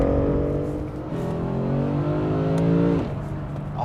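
Cabin sound of a BMW M3 engine during a downshift, a close, smooth engine tone that drops and then rises with a quick rev blip, with no talking over it.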